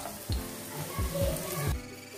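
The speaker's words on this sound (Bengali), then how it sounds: "আর এই পিঠটাও ভেজে নেব।" Lentil fritters (dal bora) frying in oil, a steady sizzle with a few low thumps as they are turned, fairly close and moderately loud.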